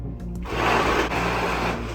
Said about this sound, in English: you can just hear the blender saying, I'm struggling here